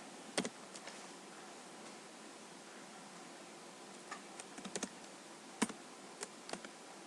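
Scattered keystrokes tap on a keyboard in short irregular bursts, quiet and close, with a faint hiss of room noise between them.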